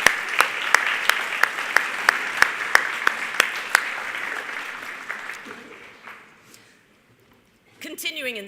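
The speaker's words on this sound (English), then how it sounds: "why don't we give this group a round of applause" A banquet audience at a student awards event applauds a group of honorees, steady clapping with a few sharp claps standing out, fading out over several seconds before a voice begins speaking.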